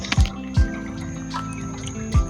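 River water drips through a homemade drinking-water filter outdoors, four distinct, close, plopping drops falling at uneven intervals.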